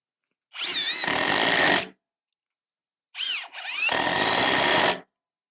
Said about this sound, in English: you're installing these 3-inch coated deck screws into pressure-treated lumber. Watch how fast it can actually install them.